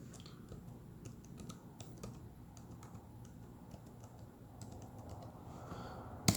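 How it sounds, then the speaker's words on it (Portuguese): Fingers type steadily on a computer keyboard, a quiet run of irregular clicks and key taps close by, ending in a sharper louder tap, with no talking. "E se eu digitar então isort e passar para ele uma lista"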